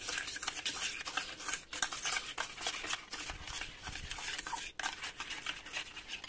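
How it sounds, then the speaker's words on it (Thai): A whisk or spoon stirs eggs, sugar and a pinch of salt in a bowl, giving a steady scraping, clinking patter that runs close and quiet for several seconds with no talking. "คลุกเคล้าส่วนผสมให้เข้ากันนะคะ"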